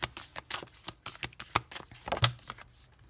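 Tarot cards riffled and shuffled by hand in quick uneven bursts of soft slaps and flutters, close and fairly quiet, no talk.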